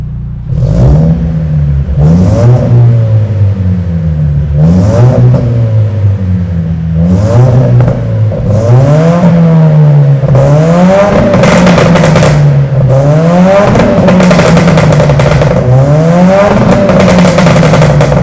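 A Lexus IS200t engine with a full bolt-on aftermarket exhaust, downpipe and tune revs repeatedly in loud bursts, its deep exhaust note rising and falling in waves, echoing in an enclosed space.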